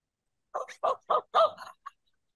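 Dog-E, a robotic toy dog, gives a short series of about five electronic yapping barks in quick succession, then one brief final yip, clear and close with silence around them.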